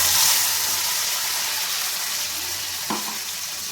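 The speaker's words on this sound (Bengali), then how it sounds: "এবার আমি মিক্সিতে যে মশলাটা পেস্ট করে রেখে দিয়েছিলাম সেটা আমি দিয়ে দেবো কড়াইয়ের মধ্যে" Spice paste for an egg curry sizzles steadily in a hot wok, a dense close hiss that eases slightly over a few seconds, with one brief clack of a utensil near the end.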